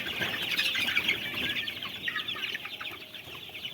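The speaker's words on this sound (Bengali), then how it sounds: "এই যে কত মুরগি বাইরে ছাড়া আছে।" Sonali chickens roam free outside on a farm, clucking continuously in overlapping calls at close to moderate distance, with occasional wing flaps and no talk.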